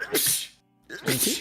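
A person sneezes twice, sharp bursts close by with a brief silence between them, after a short spoken word.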